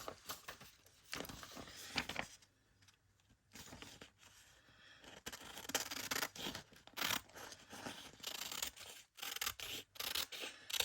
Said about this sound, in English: To do this, I'm just going to use my scissor.